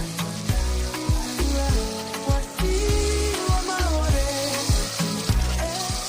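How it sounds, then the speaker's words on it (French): Rice in broth simmering in a pot, bubbling and popping steadily with a soft sizzle and music playing in the background. "Après, on laisse mijoter"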